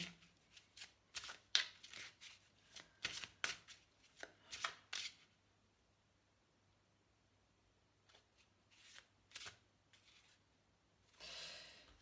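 Oracle cards shuffle in quick crisp riffles and slides, a burst of rapid flutters followed by a pause, then a few more card sounds and a final brushing draw.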